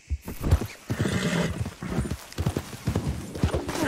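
A horse in Red Dead Redemption 2 lets out a loud neigh over close, irregular hoof clops, with a brief voice near the start.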